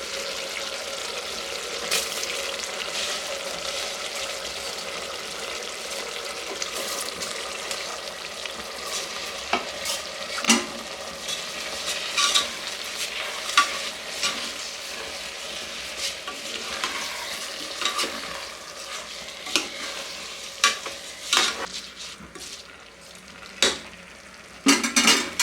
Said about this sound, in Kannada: ಅಕ್ಕಿ ಹಾಕ್ಕೊಂಡು ಒಂದು 2 ನಿಮಿಷ ಫ್ರೈ ಆಗೋದಕ್ಕೆ ಬಿಡೋಣ